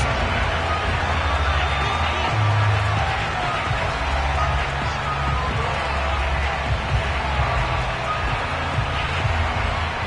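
Stadium crowd noise in an EA Sports NFL video game, a Baltimore Ravens home crowd before facing the Cincinnati Bengals, as a dense, steady roar with a commentator speaking over it.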